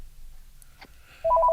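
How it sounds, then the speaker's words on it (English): A telephone sounds with a short electronic tone pattern, fairly loud, coming in suddenly after near silence with a faint click before it; no one talks. "Oh, there's a phone. I'll get it."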